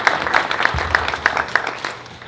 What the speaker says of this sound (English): Let's give Councilman Hyatt a round of applause.